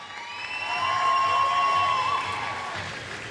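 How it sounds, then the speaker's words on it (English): A gym crowd at a Heritage Hawks versus Shoreline Christian Chargers high school basketball game cheers and applauds in a broad, steady roar, with a long, clear whistle-like tone running across the middle. "Big round of applause for"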